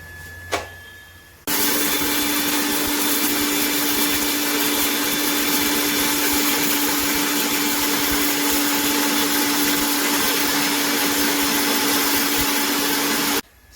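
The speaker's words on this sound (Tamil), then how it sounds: "இப்போ நான் இதை மிக்சியில் அரைச்சி எடுத்துட்டேன்" A mixer grinder pulverises dried turmeric into powder: a short click, then a loud, steady whirring roar runs unbroken for about twelve seconds before cutting off abruptly.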